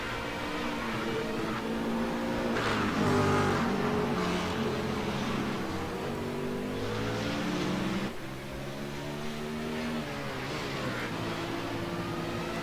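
Race cars on a track, including a BMW, engines droning and shifting pitch as they rev and pass, a continuous layered roar at moderate distance with no talk.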